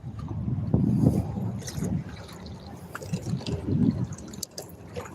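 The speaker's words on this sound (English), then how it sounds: "Your boat's noisy today, buddy." A boat sits on the water near the Sebastian Inlet with a low, rumbling hull noise and lapping water, mixed with wind buffeting the microphone.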